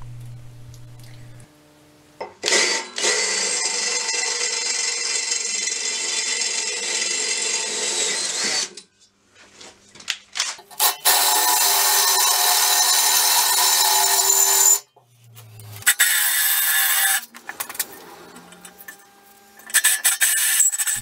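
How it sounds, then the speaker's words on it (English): A power drill bores a hole through the top of a steel gas bottle, giving several long, loud, harsh grinding bursts separated by short pauses. "I had to drill an hole through the top just for the cable to go through"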